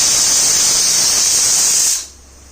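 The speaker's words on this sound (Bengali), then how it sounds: "একটা সিটি এইমাত্র উঠে গেল।" Pressure cooker whistle on a gas stove releasing a loud, steady hiss of steam for about two seconds before cutting off abruptly.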